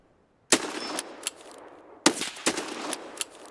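Pistol fire in Escape From Tarkov comes after a moment of near silence: a loud sharp report, a second shot, a short pause, then a quicker cluster of three or four shots. The shots are close and crisp, with no talk over them.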